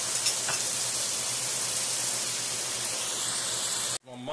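Butter, about two tablespoons, melting in hot pot roast juices gives off a steady, even sizzle and hiss close up, with no talking, then cuts off abruptly near the end.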